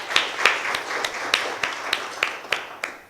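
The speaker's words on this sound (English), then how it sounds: "Ladies and gentlemen, a round of applause as he joins the platform." Audience at a conference session clapping as a panel moderator joins the platform, a sparse, fairly steady run of individual claps spaced through the moment rather than a full roaring ovation.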